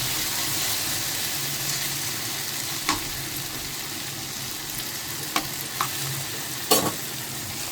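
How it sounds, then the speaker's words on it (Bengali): Okra bhaji crackles and sizzles steadily in a pan with a broad hiss, punctuated by a few sharp utensil taps and scrapes near the end; no voices. "এই যে আমার ঢেঁড়স ভাজিটা প্রায় হয়ে গেছে।"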